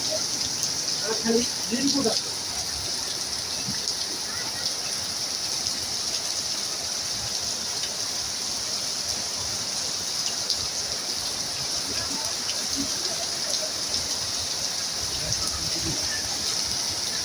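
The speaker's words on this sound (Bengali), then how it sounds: "যার যার এলাকায় বৃষ্টি হচ্ছে" Steady rain falling outdoors, an even hiss of drops on surfaces that stays constant and fairly soft throughout, with a few faint low knocks near the start and no clear voices.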